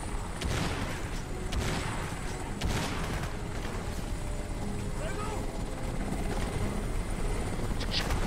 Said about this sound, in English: Crap, crap, crap, helicopter! Helo, helo, helo!